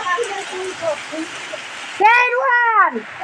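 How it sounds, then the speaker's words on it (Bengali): Heavy rain pours in a rural village, a steady close hiss of downpour, with a voice talking over it and then exclaiming loudly near the end. "ও মাই মাই, এত বৃষ্টি।"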